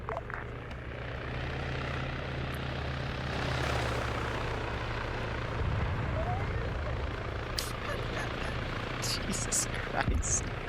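A military helicopter from the Arma 3 game drones as a steady low rotor hum throughout, with rising whine and clutter layered over it and a voice talking intermittently.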